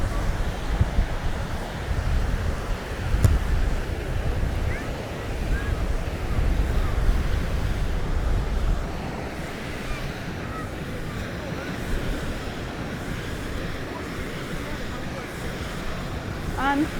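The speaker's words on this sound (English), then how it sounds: "Nice little waves and the people are in there." Small ocean waves wash onto Naples beach, Florida, a continuous rushing surf mixed with heavy wind noise on the microphone, steady and fairly loud with no clear voices.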